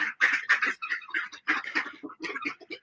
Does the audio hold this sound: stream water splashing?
no